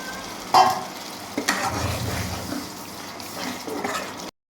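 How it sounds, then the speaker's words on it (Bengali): Spices being sautéed in a pan, a continuous close sizzle with stirring scrapes and a sharp clank near the start, cutting off abruptly at the end. "মশলাগুলো কষানো হয়ে গেল"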